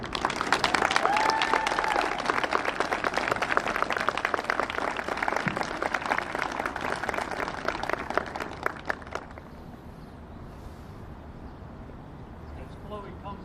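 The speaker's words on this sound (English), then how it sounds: "Let's give a big round of applause to our recipient for this year" An audience at a Wicomico Public Schools Teacher of the Year event applauds an award recipient, sustained full clapping and crowd noise for about nine seconds before it drops off abruptly to a quiet room.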